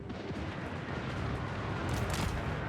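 Hand gunners firing their guns in a fantasy battle video game: a muffled, rumbling roar of massed gunfire and booms, steady and fairly quiet, with no speech.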